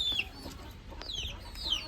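Hens at a backyard laying spot give three short, high clucks spaced about three quarters of a second apart, soft and fairly close over a quiet background.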